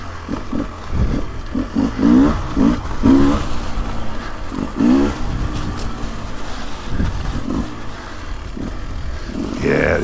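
A 2024 Beta 300 Race Edition two-stroke dirt bike engine revs and bogs in low gear on a trail, its loud throaty bursts rising and falling close by with wind noise between pulls.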